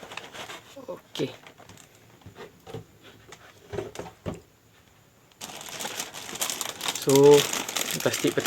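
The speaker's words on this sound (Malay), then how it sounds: "So plastik pertama ni dah terkoyak." Crinkly plastic bag holding Daban Master Grade Duel Gundam Assault Shroud model kit runners is handled and torn open, giving scattered crackles and rustles up close, then a denser burst of crinkling near the end.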